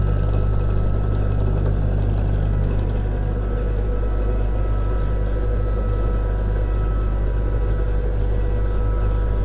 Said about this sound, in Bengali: ভিউয়ার্স দেখতে পাচ্ছেন আমার মোটর কিন্তু রানিং দেখাচ্ছি। এটা গিয়ার মোটর, এর জন্য স্পিডটা কম।